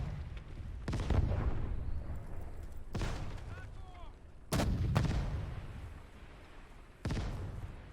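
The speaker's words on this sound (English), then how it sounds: "We have rifle grenades here of an AT grenadier, so let's try that." A rifle grenade fired by an AT grenadier in the World War II strategy game Gates of Hell, set during the 1941 German invasion of the Soviet Union: four heavy booming blasts spaced a few seconds apart, each rolling away in a long decaying rumble.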